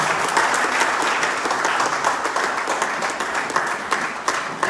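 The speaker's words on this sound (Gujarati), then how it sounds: "બેન માનસી જૈનને તાળીઓના ગણગણાટથી વધાવી દેવા નમ્ર વિનંતી" Audience applause at a COVID warrior award ceremony: dense, sustained clapping from a crowd filling the room, steady and loud throughout with no voices over it.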